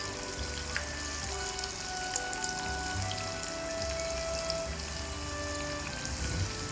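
Fish fries in a pan with steady, dense sizzling and crackling, close up and continuous, with small pops scattered throughout and no talking over it.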